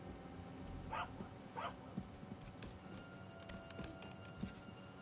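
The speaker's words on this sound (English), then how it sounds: "Why is the dog making so much noise?" A dog barking in the medieval game Kingdom Come Deliverance 2, two short barks early on and then a few faint yips over a busy ambient background with soft thuds.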